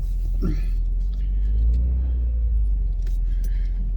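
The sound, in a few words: Jeep being moved out of the way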